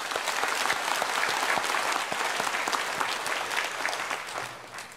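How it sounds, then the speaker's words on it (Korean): Church congregation at a Sunday worship service clapping together, dense continuous applause from a large room that holds steady and then tapers off near the end. "박수로 축하합시다."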